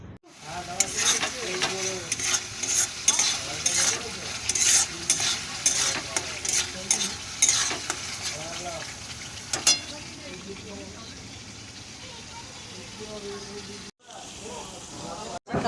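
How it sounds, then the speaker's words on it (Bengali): Flat beans (shim) frying in a pan in a home kitchen, a steady sizzle with bursts of stirring and scraping during the first half, then a quieter continuous fry; a voice talks over it. "আর এই শিম ভাজা হচ্ছে"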